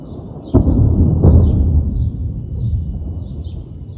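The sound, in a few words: thunder during a lightning storm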